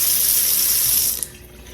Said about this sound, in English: typically, you would leave the water running